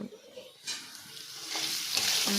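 Potatoes and hilsa fish frying in a pan, a soft, steady sizzle with occasional stirring scrapes, close by and alone.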